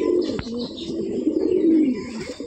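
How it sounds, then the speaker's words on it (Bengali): Old-type Giribaj pigeons cooing close by, a steady run of soft, low throaty coos over a few seconds with faint background noise and no talk. "ওল্ড টাইপের পায়রা, এগুলো ওড়ানো আছে।"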